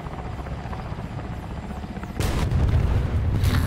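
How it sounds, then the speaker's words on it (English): Large Soviet military helicopter in War Thunder, a loud continuous rotor thump and engine roar that swells sharply midway as booming blasts break in close by. "It's a fat Soviet helicopter."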